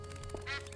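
A cartoon duck quacks once, faintly, in the Escape from Monkey Island video game, a short nasal call over a steady background hum.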